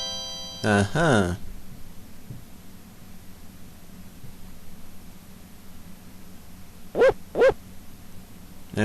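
Dog barking in the Zombies Ate My Neighbors video game: a loud double bark near the start, then a quieter pair of sharp barks near the end, over faint background noise.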